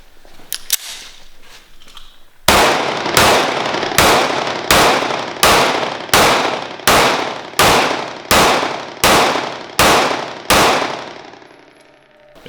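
A Sig P365 pistol fires a steady string of about fourteen loud, sharp shots at a regular pace, each crack close and ringing briefly before the next, with a few faint clicks beforehand.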